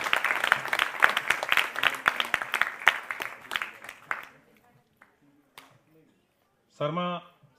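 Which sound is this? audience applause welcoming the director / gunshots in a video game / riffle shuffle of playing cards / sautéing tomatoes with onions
audience applause welcoming the director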